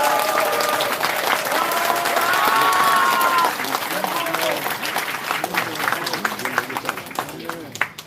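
Audience applause welcoming a lawmaker at a regional party members' rally, a dense, steady wash of many hands clapping close up, with voices and brief tonal sounds over it, thinning into scattered claps toward the end.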